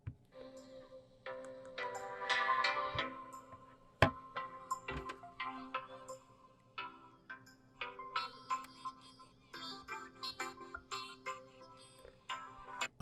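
Music plays through the stereo speakers of a Samsung Galaxy A73 phone, a steady, moderately loud tune with sharp ticking accents and a brief click, small-speaker tone with no talking.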